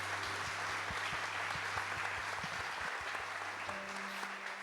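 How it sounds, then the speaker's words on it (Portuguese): An audience applauds at a Catholic testimony gathering: a soft, steady spread of clapping over a low hum and a regular series of dull low thumps. "Vamos aplaudir essa história"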